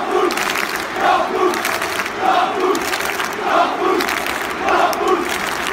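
Monaco football fans chant "Dortmund" in a half-empty stadium, a rhythmic crowd chant rising and falling in repeated phrases, moderately loud and fairly distant, with no clear talk over it.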